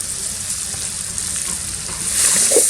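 Rabbit meat fries in a pan with turmeric and Kashmiri chili powder, a steady close hiss of sizzling that swells louder near the end as it is stirred.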